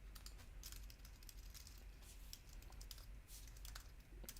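Quiet, steady keystrokes on a computer keyboard while coding, a continuous patter of light clicks over a low background hum with no talking.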